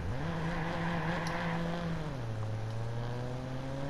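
A car engine drives steadily in the video game Watch Dogs, a continuous mid-loudness hum whose pitch holds, then dips slightly as the car settles into a lower gear tone.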